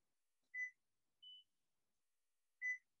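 A kitchen oven timer sounds three short, clear electronic beeps spaced about a second apart, set against near silence.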